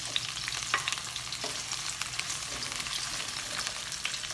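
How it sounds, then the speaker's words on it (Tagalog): Red onions sizzle steadily in a hot pan for fish escabeche, a continuous bright crackle with occasional scraping clicks of stirring mixed in. "We are going to add now our red onions."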